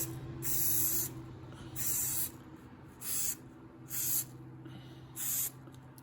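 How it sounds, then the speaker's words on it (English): Five short bursts of aerosol glue hiss from a spray can, each about half a second long and evenly spaced, sprayed onto padding while reupholstering MG TF car seats, over a steady low hum in a workshop. "I have to spray some glue in here."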